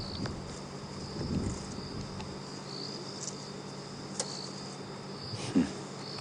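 Crickets chirp steadily through a night in the African bush at Djuma Game Reserve, a faint continuous high trill with a few soft, distant rustles and knocks beneath it.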